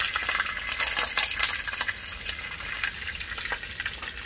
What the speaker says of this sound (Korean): 이게 뜨거운 기름 막 물하고 이게 만나면은 튀기는 엄청나게